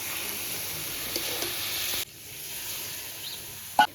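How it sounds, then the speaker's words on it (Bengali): Mutton cooking with a little water added, a steady close sizzle and hiss that drops to a softer simmer partway through, with a brief louder stir knock near the end; no talk. "এবার মাংসটা এই যে অল্প জল দিয়ে দিয়েছি"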